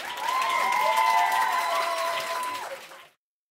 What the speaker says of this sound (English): applauded it with glee.